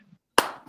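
A single sharp hand clap rings out after a brief near-silence, loud and close, with a short decay.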